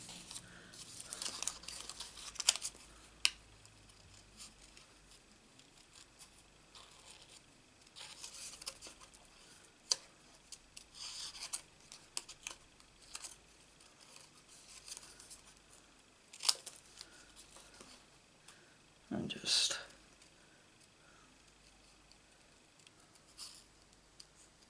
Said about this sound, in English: for those of you who haven't got a die, you can fussy cut them